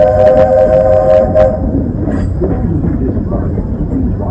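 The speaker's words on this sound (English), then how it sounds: "please wait until the train has come to a complete stop" Walt Disney World Railroad steam train pulling into a station, a loud close rumble with whistle-like tones and rolling clatter at first, settling into a steady mechanical hum as it slows.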